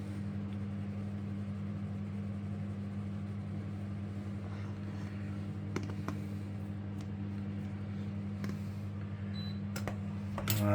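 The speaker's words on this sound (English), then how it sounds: "Alright, the microwave, as you can hear in there, the swede and the mashed potatoes are in there." A microwave oven hums steadily while heating swede and mashed potatoes in a home kitchen, a low constant drone with faint clicks and small knocks over it, close and unbroken.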